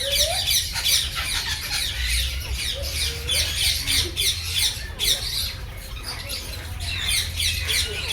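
Parrots at Kankaria in Ahmedabad squawk repeatedly at mid distance, harsh calls recurring every second or so over a steady hum of background noise.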